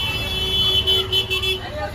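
Car horns honk in a road traffic jam, sustained tones sounding close over the rumble of vehicles, with people talking throughout.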